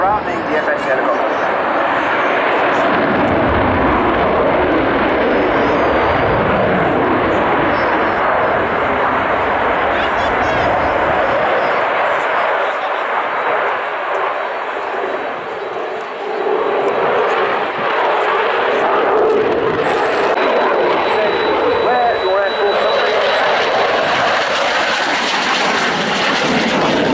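F-16 display jet and Apache helicopter performing at the Royal International Air Tattoo at Fairford, a loud sustained engine roar that swells and fades as the aircraft pass, with an announcer's commentary over it.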